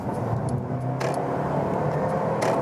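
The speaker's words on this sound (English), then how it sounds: "So I'll put you to speed right here and we do some acceleration." Mercedes-Benz GLB 250 accelerating hard from about 50 to 90, a steady car engine rumble with road and tire noise inside the cabin, continuous and fairly loud, no talking.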